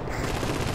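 Rapid automatic gunfire sounds in the Rainbow Six Lockdown video game, a brief dense burst of loud shots with no pause.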